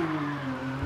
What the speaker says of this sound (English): As you can see, we spun the car.